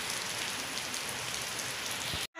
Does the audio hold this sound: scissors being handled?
no